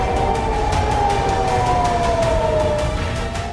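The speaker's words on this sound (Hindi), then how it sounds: "लगातार सायरन बज रहे हैं" A warning siren wails steadily in Tel Aviv during an Iran-Israel conflict, its pitch slowly falling, over a constant low rumble of background noise.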